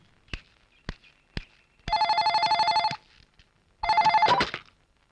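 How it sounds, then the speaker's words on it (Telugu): A telephone rings twice in a horror thriller film, each ring a long buzzing trill, preceded by a few sharp taps or footsteps in a quiet room. "సింధు మేడం, మీ డాడీ ఫోన్ చేశారు, మళ్ళీ 5 నిమిషాల్లో చేస్తామన్నారు."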